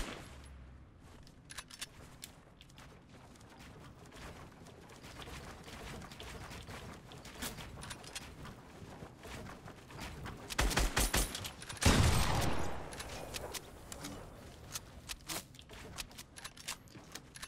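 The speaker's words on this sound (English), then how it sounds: "Okay, where are you shooting me from?" Gunfire in the video game Apex Legends, scattered distant shots throughout, swelling into a louder, closer burst of rapid fire near the end.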